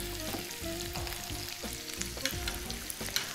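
Onions sautéing in a pan give off a faint, steady sizzle with a few small stirring clicks, heard close and without speech.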